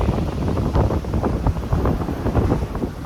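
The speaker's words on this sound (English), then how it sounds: "I know it's kind of windy, so you guys probably can't hear me" Steady, loud wind buffets the microphone, a continuous low rumble with gusty bursts throughout.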